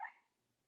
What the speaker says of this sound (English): my dog is in the background barking